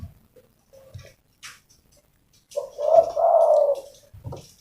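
A decoy fighting dove gives a clear, rounded coo at close range, one long drawn-out call standing alone after a few scattered small clicks and taps in an otherwise quiet space.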